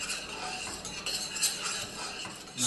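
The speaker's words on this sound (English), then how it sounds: "Stir the mixture to make sure that the fruit are melting" A utensil stirs fruit simmering in red wine in a pot, making close, continuous scraping and clinking against the pot with a soft bubbling underneath, no voices.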